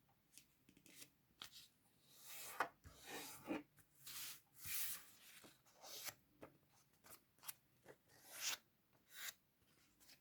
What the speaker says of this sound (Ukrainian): Беремо один квадратик та розрізуємо навпіл. Складаємо навпіл та розрізуємо.